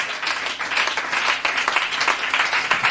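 A church congregation claps and applauds together in dense, steady, fairly loud applause that carries evenly throughout, with no clear voices above it.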